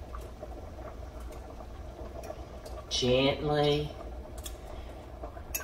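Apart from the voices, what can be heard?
chicken and broth boiling in a pot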